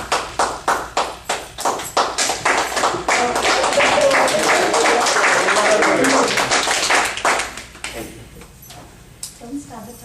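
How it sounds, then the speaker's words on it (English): Audience applause at a Toastmasters club meeting, a dense crowd clapping that swells, holds steadily, then thins out into scattered claps before fading. "with a round of applause, let's welcome our second speaker"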